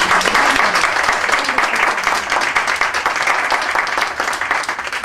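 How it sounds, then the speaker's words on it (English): Steady, loud applause from a crowd, many hands clapping densely throughout without a break. "I think you deserve a round of applause for that"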